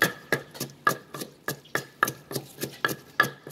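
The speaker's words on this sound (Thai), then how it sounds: "เราก็โขลกเข้าไปนะคะ" Dried chillies being pounded in a mortar for papaya salad, a steady series of about a dozen sharp, evenly spaced thuds with a faint ringing knock, close and alone.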